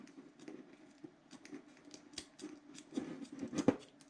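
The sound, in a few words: Leatherman tool scissors cutting wire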